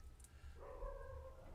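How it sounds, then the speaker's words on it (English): A dog lets out a single short, faint whining bark partway through, heard quietly over low background rumble. "Oh, who brought the dog?"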